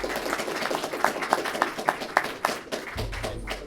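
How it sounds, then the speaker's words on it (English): Audience at an AI venture capital panel event giving a short round of applause, scattered claps with a few distinct regular hand strikes near the microphone, fading out toward the end. "could we quickly give them a quick applause for that?"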